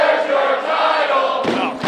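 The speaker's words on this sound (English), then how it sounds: "Crowd chanting, "Where's your title?"" A wrestling crowd chants in unison at an NWL show, a loud, dense wash of many voices sustained throughout, with a brief surge of shouting near the end.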